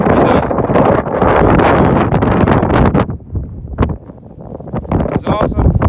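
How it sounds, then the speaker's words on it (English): Strong gusty wind on the summit of Mount Adams in the White Mountains roars and buffets the microphone in loud bursts, easing briefly midway before surging again. "It's very windy."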